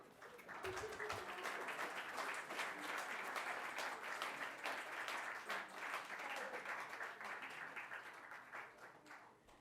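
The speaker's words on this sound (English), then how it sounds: "the big round of applause for Mr. Mundra" A presentation audience breaks into a sustained round of applause, a dense, steady wash of many hands clapping at even loudness for nearly ten seconds, with a faint voice briefly heard early on.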